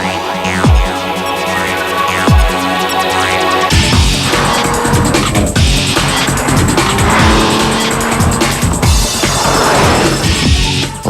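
A new Porsche 911, the 997 version, drives hard with its tires squealing in repeated sharp skids, then the engine note swells loudly with continuous squealing and roaring as the car corners, close and intense with no talking.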